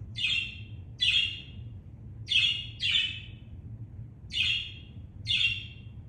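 Two pet birds, one blue and one green, give six bright, clipped chirps in loose pairs, moderately close, over a steady low background hum.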